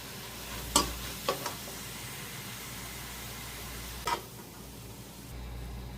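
Squid stir-fries with minced garlic and seasoning in a pan, giving a soft steady sizzle, broken by a few sharp clinks of a spatula against the pan.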